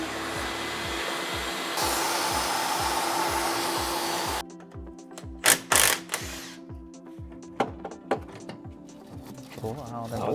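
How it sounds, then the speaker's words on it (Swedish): A vacuum cleaner whirs loudly with a steady motor whine in a mechanic's workshop during work on a rusty Volvo V70 XC, then switches off, leaving clattering bumps and handling noises. "prova dammsugaren"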